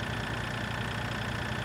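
A tractor engine in Farming Simulator 2013 drones steadily at a low, even rumble, constant and unbroken, with no voices over it.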